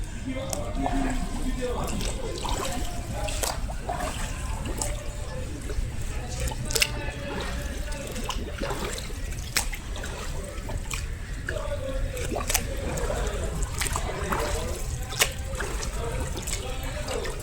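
Water splashes and trickles from freestyle swimming strokes, three strokes to each breath, during a beginner swimming lesson. The wet sloshing runs steadily throughout, with soft voice-like sounds underneath.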